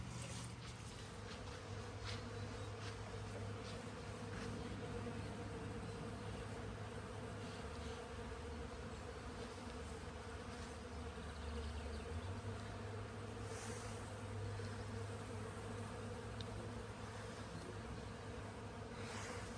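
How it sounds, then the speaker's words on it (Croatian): Bees buzz near a village farm, a steady, dense hum of many insects close by that holds unbroken throughout, with faint low background noise and no talking. "Nadam se da čujete pčele."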